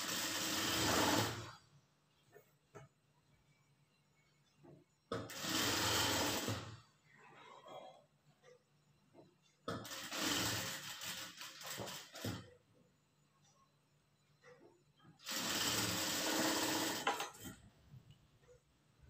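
Sewing machine stitching blouse pieces corner to corner, running in four separate short bursts with quiet pauses between, fairly faint overall.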